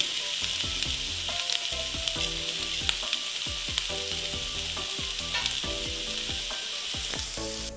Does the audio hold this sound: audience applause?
no